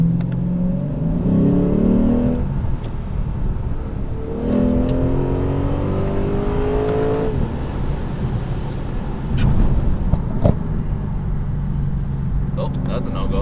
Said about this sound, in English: Oh, that's a no-go. That was a car.